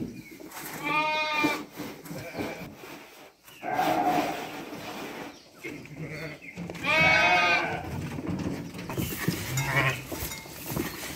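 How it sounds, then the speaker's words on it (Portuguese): Sheep and lambs bleat loudly on a farm in several long, wavering calls, one near the start and another louder one later, amid shuffling and general pen noise. "Olha que borregão bonito, ó. Borregão macho."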